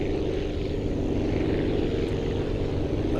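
A propeller aircraft engine at full throttle in Aviassembly gives a loud, steady droning roar that holds constant throughout, with no talking.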